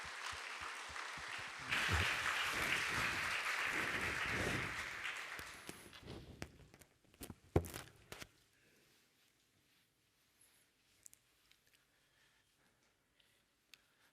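A Korean church congregation at Sunday worship gives welcoming applause for a visiting missionary couple, loud sustained clapping for about six seconds that fades out, leaving scattered footsteps and small taps.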